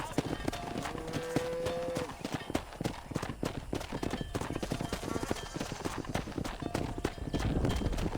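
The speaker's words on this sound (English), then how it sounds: "Control that horse, will you?" Steady clip-clop of horse hooves at a walking pace in the video game Red Dead Redemption, close and fairly loud, with a brief tonal note and background activity throughout.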